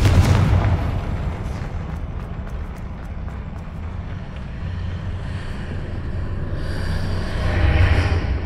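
A Confringo blasting spell explodes in Hogwarts Legacy with a deep, rumbling boom. Low-end roar sustains throughout and swells again near the end, without talk.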